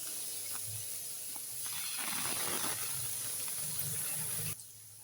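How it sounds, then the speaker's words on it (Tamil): Paneer cubes frying in a pan, a steady close hiss and sizzle of oil that swells briefly midway and then drops sharply near the end. "இதே மாதிரி எல்லா பன்னீரும் ஃப்ரை பண்ணி எடுத்துக்கலாம்."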